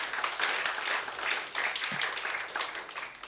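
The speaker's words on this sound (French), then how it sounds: "On peut encore applaudir, monsieur le père." Applause from an audience at a conference session honoring a priest from Congo-Brazzaville, a moderate wash of clapping that rises and falls in waves, heard at a distance.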